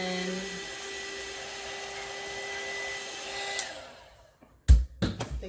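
A heat gun blowing over vinyl on transfer paper, a steady close whirring whoosh with a motor whine that cuts off and winds down, followed by a few sharp handling knocks, no talking.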